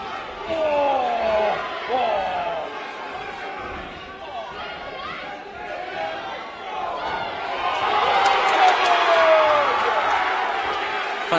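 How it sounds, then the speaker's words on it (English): Crowd at a student boxing fight night in Cardiff, a steady roar of cheering and shouting that swells louder toward the end, with a commentator talking over it. "the Cardiff crowd are really getting behind their man"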